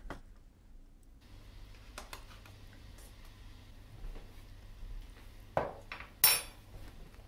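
A metal spoon scrapes and taps against a pot while skimming foam from simmering tonkotsu ramen broth, with soft intermittent clinks over a quiet background and two sharper knocks near the end.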